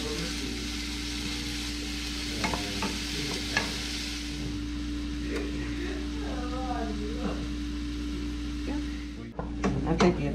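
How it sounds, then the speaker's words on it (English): Chanterelle mushrooms sizzle in a hot pan while being stirred, giving a steady frying hiss broken by scraping and stirring strokes, with a voice talking faintly in the background. "sizzle."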